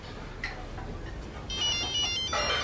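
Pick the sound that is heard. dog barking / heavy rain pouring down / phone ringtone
phone ringtone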